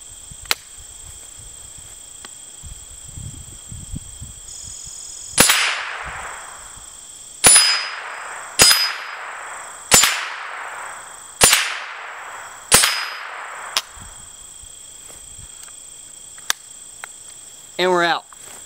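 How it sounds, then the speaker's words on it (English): Six sharp rifle shots from a Browning SA-22 .22 ring steel targets outdoors at an irregular steady pace, each crack followed by a metallic ping. Insects drone steadily in the background. "Let's go ahead and just wake these steel targets up real quick"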